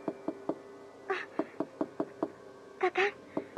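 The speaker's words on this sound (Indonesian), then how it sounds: "ada orang mengetuk pintu rumah kita di luar." Evenly spaced knocks on a house door, about a dozen raps, interrupted twice by brief cat-like cries.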